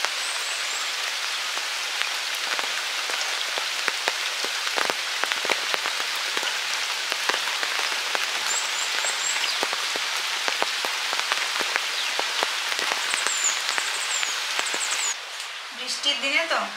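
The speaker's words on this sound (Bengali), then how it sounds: "বৃষ্টিতে সেই সকাল না রাত থেকে হচ্ছে, যখন থেকে তো ঘুম ভেঙেছে দেখছি যে হয়েই চলেছে, এখনো হচ্ছে" Steady rain falls on a courtyard, a dense continuous patter that runs without a break, with a voice talking faintly under it.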